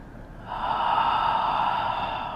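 A steady, sustained breath through the nose or mouth during a supine yoga stretch, beginning softly and swelling after half a second into a long airy exhale that holds for nearly two seconds, close and fairly quiet with no talking.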